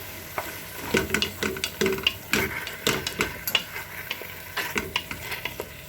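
A pot of pork and dumpling soup with shiitake and woodland mushrooms being stirred, a utensil knocking and scraping against the pot in quick irregular strokes, close and clear over a faint bubbling hiss.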